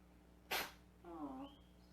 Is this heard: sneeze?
yes